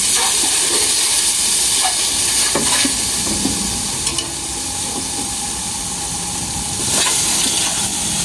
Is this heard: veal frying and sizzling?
yes